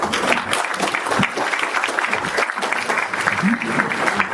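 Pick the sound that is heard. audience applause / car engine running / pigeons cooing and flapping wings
audience applause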